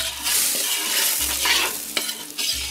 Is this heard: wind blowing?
no